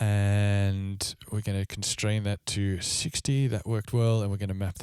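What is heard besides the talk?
None of the usual background noises is heard.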